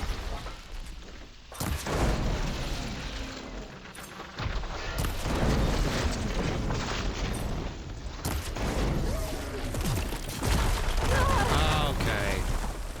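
Artillery shelling and explosions in a video game, heavy booms and blasts coming repeatedly and loudly over a dense, rumbling battle din, with a voice talking in places.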